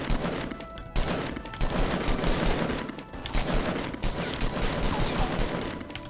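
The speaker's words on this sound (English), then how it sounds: "Oh, I'm shooting at a guy." Rapid bursts of gunfire ring out in a Fortnite Battle Royale match, dense and crackling in several clustered volleys with short gaps, steady and fairly loud throughout.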